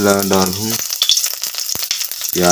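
Chopped garlic and onion hit hot oil in a village kitchen, a brief crackling sizzle with small pops between short bursts of a voice talking at the start and end.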